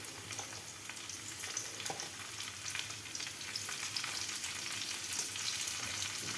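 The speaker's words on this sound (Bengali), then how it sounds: "পেঁয়াজ ভাজা হয়ে গেছে, এবার এর মধ্যে আমি টমেটো কুচিগুলো দিয়ে দেব।" Chopped tomatoes sizzle in hot oil with fried onions for a Bengali fish kalia, a steady close crackling fry with a light stirring scrape now and then, no voices.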